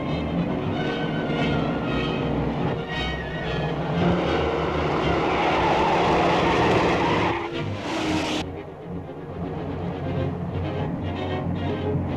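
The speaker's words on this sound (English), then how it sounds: "That car in back of us seems to be sticking on our tail." A 1937 car speeds along in a chase, its engine roaring loud and steady with a brief tire skid and squeal near the end, set against dramatic background music.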